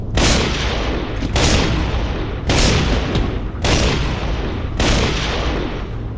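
Boltok pistol from Gears of War firing five heavy, booming shots at a slow, even pace of roughly one per second, each blast loud and close with a long reverberant tail filling the gaps.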